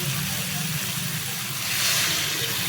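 Water is poured into a hot pan of mixed vegetables and spices, giving a brief, broad, steady hiss and sizzle that swells near the end.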